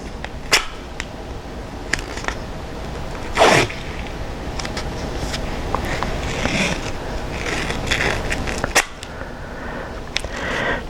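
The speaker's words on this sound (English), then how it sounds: "We just lay the tape on, tear it with a quick impulse type motion." Kinesiology tape is torn and laid onto an ankle, giving sharp tearing rips at scattered moments, with one louder rip standing out over a steady noisy room background; no one speaks.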